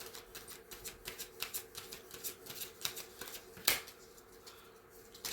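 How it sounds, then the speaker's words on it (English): Tarot cards are shuffled in a soft, rapid riffling rhythm of quiet flicks, close and faint, ending with a single sharper snap as a card is drawn. "Let me pull a couple of cards."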